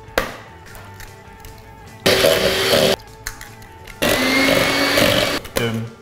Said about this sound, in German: jetzt mache ich den Rührer wieder an